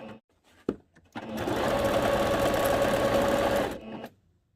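A sewing machine stitching an elastic skirt waistband runs steadily for about two and a half seconds after a few brief handling knocks, close and clear, with no talk.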